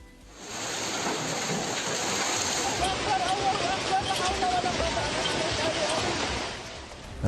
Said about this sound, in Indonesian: Di sana ada hujan es bahkan, disertai angin kencang yang menerjang wilayah itu.